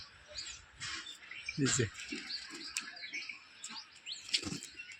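Pigeons on a home rooftop give soft calls and chirps, with a brief burst of wingbeats partway through, heard close while someone speaks over them.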